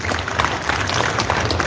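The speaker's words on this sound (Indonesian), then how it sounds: "tepuk tangan lu Andre ini" A group of police officers at an award ceremony at a district station claps for a colleague, a short, dense burst of hand clapping heard close up.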